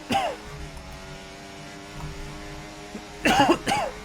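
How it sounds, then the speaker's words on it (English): A man gives a chesty cough, a quick burst near the start and two harsher coughs near the end over a faint steady hum, close to the mic. "Give myself a chesty cough, chat."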